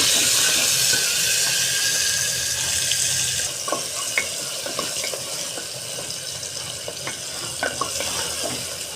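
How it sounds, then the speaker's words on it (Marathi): Onion sizzling and frying in a hot pan with curry leaves, bay leaf and green chillies, a steady hiss throughout with faint scraping stir sounds later on, no talking. "कांदा घातल्यावर कांदा थोडा परतवायचा."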